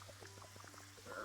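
Water being refilled in the Fresh Start Cleaning Simulator video game, a faint gurgling trickle of quick watery plinks over a low steady hum, brief and with no talk.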